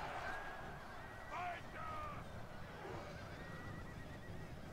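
Cavalry horses whinnying loudly over a dense, steady battle din in the Westeros Total War game, with a couple of shrill neighs standing out near the middle.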